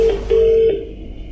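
Telephone keypad dialing tones as a call is placed: a short tone followed by a longer steady beep and a third brief tone, clear and close with no talking.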